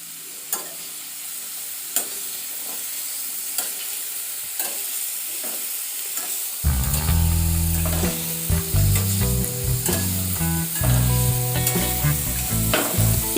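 Marinated paneer cubes are tossed in ghee, starting with quiet scattered ticks and then breaking into loud, crackling sizzle with repeated stirring clatter for the rest of the time.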